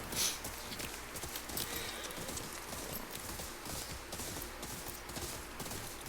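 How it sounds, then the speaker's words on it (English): Steady clip-clop of horse hooves trotting along at a quick, even rhythm in the video game Ghost of Yotei, fairly faint against a soft background hiss. "And we're gonna call my horse in."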